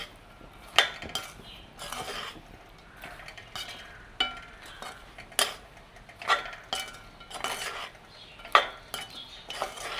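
A spoon clinks and scrapes against a pan while popcorn kernels are stirred through pink sugar syrup, in irregular rhythmic strokes with sharp metallic knocks, close and clear.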